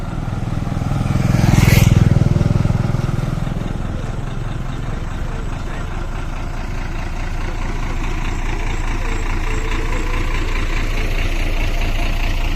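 A bus engine drones steadily as it climbs a forest road from Chalakkudy to Valparai at night. The loud, low rumble swells briefly near the start, then holds an even, continuous hum.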